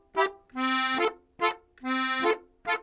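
An accordion sounds a clean tone in short separated notes and longer sustained chords, played alone and close with gentle bellows pressure.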